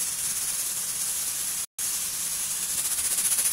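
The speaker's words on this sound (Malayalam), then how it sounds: "കുക്കറിലിപ്പോൾ അതേ സ്റ്റീം വന്നു" A pressure cooker cooking Kerala-style pork curry releases steam in a loud, steady, close hiss that cuts out briefly midway and then resumes.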